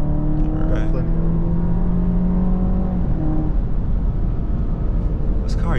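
A 2024 Alfa Romeo Giulia Ti RWD with 280 horsepower accelerates hard, its engine tone climbing steadily and loud from inside the cabin before easing off as the car shifts, with some voices over it.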